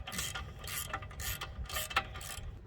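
A ratchet wrench tightens brake bolts on a car during a rotor and brake change, giving a quiet, rhythmic series of clicking, rasping strokes repeated in even bursts, with no talking.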